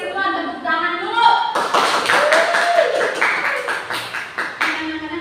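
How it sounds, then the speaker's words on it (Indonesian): Schoolchildren in a classroom clap along with a teacher's praise, a burst of quick overlapping hand claps and taps lasting several seconds, fairly close, with a voice briefly speaking at the start. "tepuk tangan dulu"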